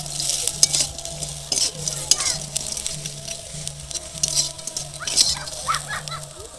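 Puti fish fry in oil, giving a close, busy sizzle and crackle with irregular spatters and occasional clinks of a utensil against the pan, while a faint steady hum runs underneath.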